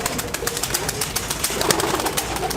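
A Malwai pigeon coos near a keeper's loft, soft throaty calls sounding through steady background clatter and rustle, with no talking.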